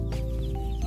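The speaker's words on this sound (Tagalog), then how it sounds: "Mga alaga niyo, manok." Backyard chickens near a fish pond cluck in a brief, close burst of short, throaty calls that lasts under a second.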